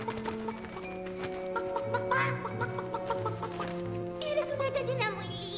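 Hen clucking in short repeated bursts amid a busy, music-like background of steady tones, moderately loud and close.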